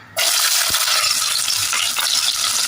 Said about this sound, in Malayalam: അപ്പോൾ നമുക്ക് ഓയിൽ ചൂടായി കഴിയുമ്പോൾ ഇത് എണ്ണയിലിട്ട് വഴറ്റി കൊടുക്കാം